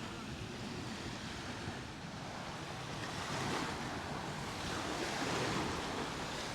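Sea waves wash steadily onto the beach at Alcudia, Mallorca, a continuous broadband surf roar with gentle swells, mixed with wind buffeting the microphone and no clear voices.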